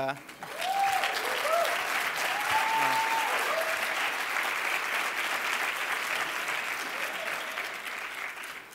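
An audience at a youth awards luncheon bursts into sustained applause with scattered cheers and whoops, loud and close, slowly tapering off over several seconds.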